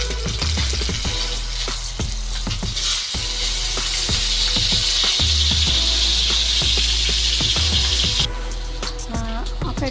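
A salmon fillet fries in hot oil in a pan and is flipped, giving a loud, continuous sizzle with scattered utensil clicks and knocks.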